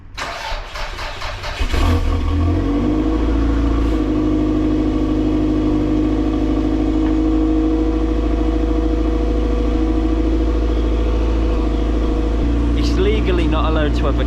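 A stock Toyota MR2 Turbo, about 20 years old and without a catalytic converter, cranks over and catches, then settles into a loud, steady close-up idle with a brief rev near the end.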